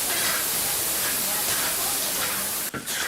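Duck stir-frying in hot oil with pickled bamboo shoots gives a loud, steady, close hiss that runs almost unbroken, with one brief dip near the end.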